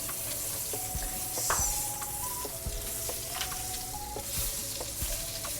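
Butter sizzling as it is spread across a hot pan for homemade Kapampangan sisig, a continuous crackling fry with scraping strokes and faint clinks, close and fairly loud, without talk.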